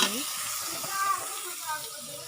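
Ground spice paste, garam masala and cumin sizzling in a hot pan, a steady, bright hiss that swells slightly as the spices go in, close and fairly loud, with no talking.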